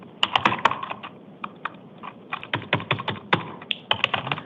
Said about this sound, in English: that judge is typing all